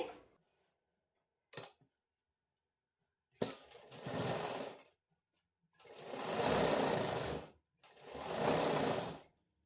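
Sewing machine stitching a slitted pencil pant, running in three long bursts of steady whirring after two brief short starts, close and alone with no talk.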